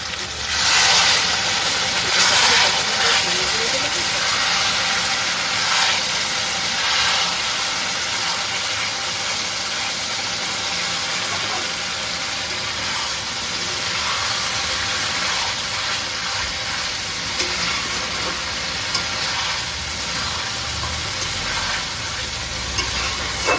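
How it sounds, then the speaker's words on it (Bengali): Chicken kosha, poultry chicken slowly sautéing in a pan, gives a steady broadband sizzle and frying hiss with occasional stirring scrapes, close and continuous with no voices. "আমরা গিয়ে দেখে আসি চিকেনটা কতদূর কষা হলো"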